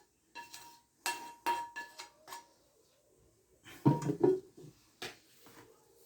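Spatula strokes stirring sautéed zucchini and carrots in a pan, a few light scraping clinks in short bursts with a louder cluster midway, close and fairly quiet.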